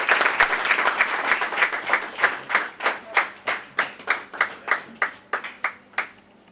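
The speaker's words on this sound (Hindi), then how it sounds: "जोरदार तालियों से निवेदन।" Applause at a retirement party, a group clapping in a slow, even rhythm of distinct synchronized claps, strong and close, with no voices over it.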